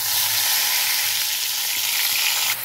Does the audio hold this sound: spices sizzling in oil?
yes